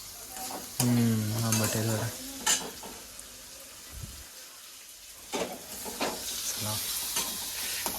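Pasta sizzles in a hot pan while a spoon stirs and scrapes through it, with a few short voices speaking over the cooking.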